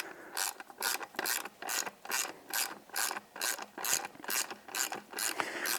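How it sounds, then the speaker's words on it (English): Ratchet or torque wrench clicking steadily while bolts on beadlock wheels are slowly tightened to spec; a close, rhythmic series of about fourteen bright ratcheting bursts, heard alone with no talking. "you're, very slowly torquing everything to spec"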